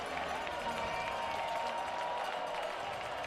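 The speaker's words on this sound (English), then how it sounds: "Crowd on its feet here, a huge homecoming crowd." A huge homecoming crowd on its feet at a UC Davis college football game against Northern Arizona, a steady, dense roar of cheering and applause that holds unbroken throughout.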